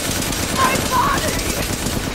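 Rapid automatic gunfire in Resident Evil Village's Mercenaries mode, loud, dense bursts running the whole time.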